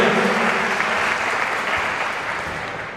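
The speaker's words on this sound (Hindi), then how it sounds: "जोरदार तालियां" Dense audience applause at a Hindi poetry gathering, a kavi sammelan in Najibabad, Bijnor, rings out strongly and then gradually eases in level.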